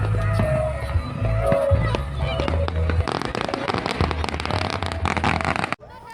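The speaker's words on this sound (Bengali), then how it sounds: "এখানে ফায়ার ওয়ার্ক শুরু হয়ে গেছে" Fireworks burst and crackle all around a lakeside Fourth of July celebration at night, with dense, loud, overlapping bangs and pops going nonstop while voices chatter in the crowd.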